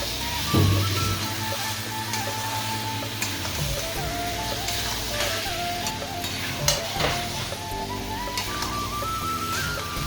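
Ingredients for a fish curry sauté in a pan with a steady, moderate sizzle, broken by occasional clicks and scrapes of stirring and a faint tonal hum in the kitchen.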